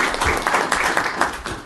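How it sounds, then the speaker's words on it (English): Meeting audience applause, a close, lively burst of many hands clapping with uneven rhythmic peaks, running throughout a short stretch. "Let's give them a big round of applause."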